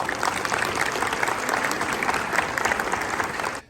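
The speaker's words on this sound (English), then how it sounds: "please big round of applause for these people" A crowd at an Eid gala dinner in New Jersey breaks into sustained applause, many hands clapping evenly at a steady level before cutting off sharply at the end.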